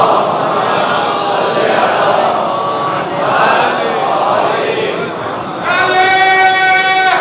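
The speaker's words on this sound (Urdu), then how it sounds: "اچھا وہ نعرے لگے" A majlis audience during Muharram gatherings raises a loud, sustained collective chant of slogans in a large hall, a dense crowd roar swelling and dipping, ending in a louder voiced surge.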